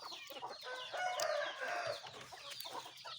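Chickens clucking and calling at a Thai poultry pen, a busy run of close, raspy bird vocalizations layered over each other with steady background noise.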